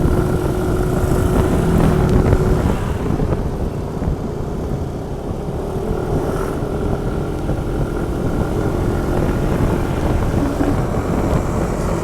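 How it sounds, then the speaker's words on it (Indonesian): A Suzuki Address scooter climbs a hill on a touring ride while held back, its engine buzzing steadily and fairly close, easing slightly midway, with no talk. "Nanjak pakai address segini karena ditahan."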